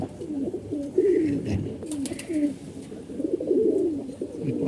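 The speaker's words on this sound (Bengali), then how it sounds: "এই যে একটা কবুতর আপনারা দেখতে পাচ্ছেন" A pigeon kept in a loft coos in repeated soft, throaty phrases close by, each call rising and falling, with quiet background noise between them.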